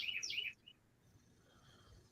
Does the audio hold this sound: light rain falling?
no